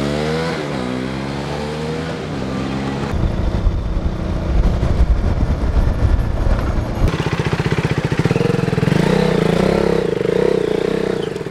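A KTM Duke 390 motorcycle ridden nearby after engine work, its engine revving up through the gears with a rising, steady drone and a loud clattering roar that holds to the end.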